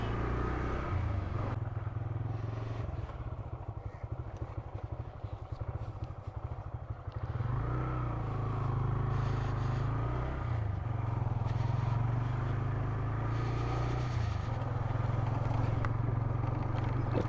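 A motorbike rides toward a Rapido pickup about a kilometre away, its engine droning steadily and loudly throughout, with a rougher rattling stretch early on before settling into a smooth, continuous hum.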